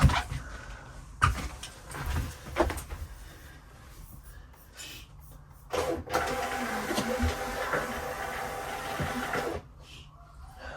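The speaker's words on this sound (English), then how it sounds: "Why is it printing in bits?" A printer runs shipping labels in stop-start bursts, its mechanical whir and feed clatter near and moderately loud, with a longer steady printing stretch near the end.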